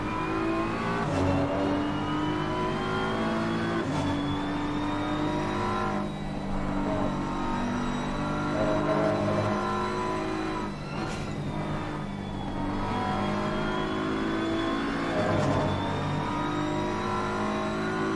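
BMW race cars in Assetto Corsa Competizione at Watkins Glen, a sustained, loud engine drone that rises and falls with repeated gear changes and no talking over it.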